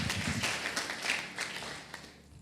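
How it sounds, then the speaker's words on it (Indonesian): A church congregation clapping during a Sunday worship service, a short, moderately faint burst of scattered applause that tapers off after a couple of seconds. "tepuk tangan buat Tuhan Allah kita"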